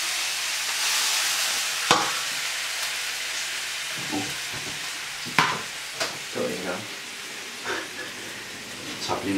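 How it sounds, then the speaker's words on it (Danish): Chicken pieces frying in oil in a pan on the stove, a steady close hiss of sizzling broken by occasional scrapes and knocks as the food is stirred or moved. "Og imens kyllingen steger, så vil jeg begynde at skære grøntsager."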